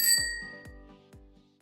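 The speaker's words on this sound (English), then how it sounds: "ring the bell" A bright bell ding sound effect rings once, followed by a few softer repeating ding echoes that fade out over under two seconds, with no voices.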